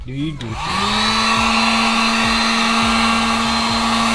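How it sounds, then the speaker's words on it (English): A heat gun blows a steady, loud whir with a constant tone, warming the adhesive behind a rear reflector on a BMW G8X M3/M4 in a garage; after a brief start-up it holds an even drone throughout. "Step uno is heat up the back of this reflector because it's held on with adhesive."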